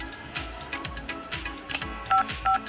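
Phone keypad tones dialing a call inside an airport, a string of short electronic beeps with a steady rhythm over faint terminal background noise.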